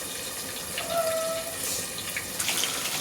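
A pot of fish curry cooked without tamarind, with garlic, green and dried red chillies, turmeric and salt, bubbles at a soft, steady simmer. The quiet watery burble runs alone, with no voices.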